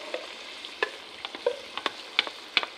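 A cream mixture is stirred into a pot of cornbread dressing, giving soft irregular scrapes and clinks of the spoon against the pot, sparse and close, with no voices.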